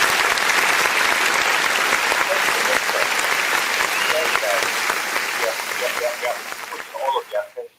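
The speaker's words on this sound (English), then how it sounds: "just give yourself a round of applause because you deserve all the accolades" An audience breaks into a round of applause at a Nigerian political talk show, loud dense clapping held steady for several seconds before thinning out and fading at the end.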